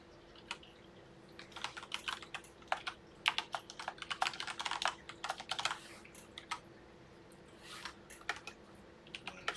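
Rapid typing on a computer keyboard, close and clear, with bursts of keystrokes and brief pauses, no voices.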